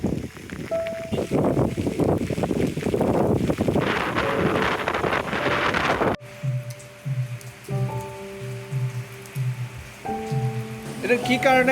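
Rain pours on the Majuli river island as a dense, steady patter with wind buffeting the microphone for the first half. After that, quieter sustained tones take over.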